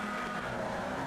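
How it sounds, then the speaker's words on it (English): Formula Vee race cars launch together from a standing start with heavy wheelspin, producing a dense, continuous roar of high-revving engines and tire noise throughout. "A lot of wheel spin leaving the line there."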